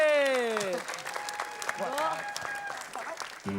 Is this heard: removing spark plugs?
no